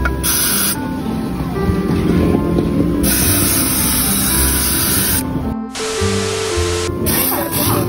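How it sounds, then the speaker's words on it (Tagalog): An angle grinder cuts into a Yamaha Mio motorcycle shock absorber with a loud, steady, close-up abrasive roar that briefly changes pitch and dips partway through. "Grinder na yata sumuko guys."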